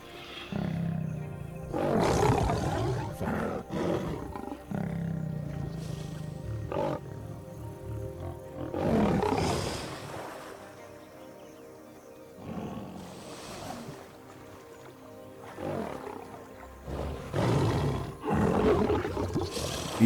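A lion on the dry savannah roaring in several deep, drawn-out bursts separated by pauses, loud and close, with no speech.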